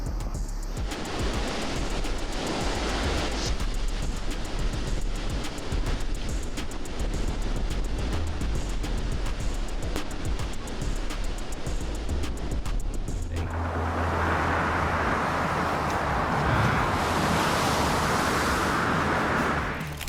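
Massive water deluge pouring over a rocket launch pad to cool it during liftoff, a loud, steady roaring rush like heavy surf that swells brighter and harsher toward the end, with no talk.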